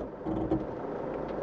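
A steady low diesel engine hum from a Toyota Land Cruiser 150 3.0 D-4D in crawl control mode at slow crawl, continuous and fairly quiet with no voices.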